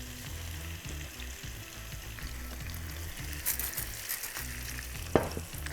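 Shrimp pasta sauce fries in a pan as dried tomatoes are added, producing a continuous sizzle with soft stirring knocks and a sharp clink near the end.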